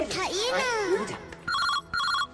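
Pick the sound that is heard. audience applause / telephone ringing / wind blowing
telephone ringing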